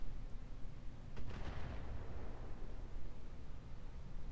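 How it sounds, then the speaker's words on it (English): In the Roguetech video game, mortar fire lands as a muffled boom with a burst of rumbling noise. It swells near the middle and then fades into a low, sustained rumble. "Mortars!"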